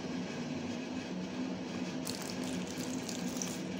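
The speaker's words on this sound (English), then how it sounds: "Little water has been added to it," Water poured into a bowl of ground beans for akara batter, a steady running splash from a tap that brightens partway through, heard alone without talk.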